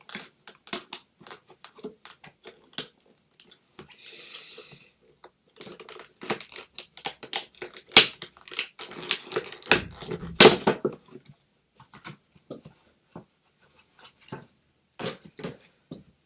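ASV shorty brake lever on a Honda CBR 600 motorcycle being pulled and released, a scattered series of sharp, close mechanical clicks with short gaps and a few louder clusters, no talking.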